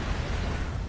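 An explosion in Assassin's Creed Rogue, a single loud rumbling boom that fills the whole short moment with low, noisy roar.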